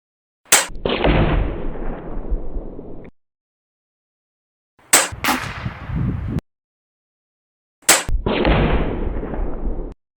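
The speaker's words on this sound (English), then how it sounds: "I'm going to go ahead and shoot 13 grains." Three sharp shots from a Chiappa FAS AR611 .22 PCP air rifle firing 13-grain pellets outdoors in strong wind, each a crisp crack followed by a roughly two-second rush of wind noise, with silence in between.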